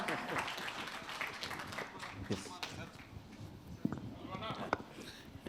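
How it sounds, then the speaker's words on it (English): Crowd applause at an Indian film event for Pushpa 2, distant and fairly faint clapping spread through a noisy hall, with a few sharper claps standing out near the end. "Big round of applause, guys."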